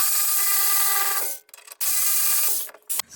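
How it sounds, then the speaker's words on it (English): A tool works on a front strut bolt of a Mercedes GLK (X204), producing close, loud, sustained whirring bursts, two long runs separated by brief pauses, with a short final burst. "I'll go ahead and remove the second bolt now."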